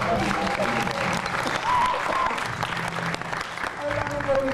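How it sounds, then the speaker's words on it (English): Audience at a reggae film festival giving a loud, sustained round of applause, dense clapping filling the whole stretch with some crowd noise mixed in. "Could you all give him a big round of applause?"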